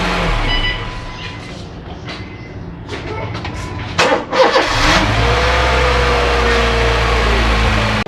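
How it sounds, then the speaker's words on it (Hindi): A repaired car engine cranks, catches and revs, a mid-pitched motor rising in a surge of acceleration partway through before settling into a loud, steady idle, close by with no clear talk. "गाड़ी स्टार्ट हो चुकी है और बिल्कुल फिट है"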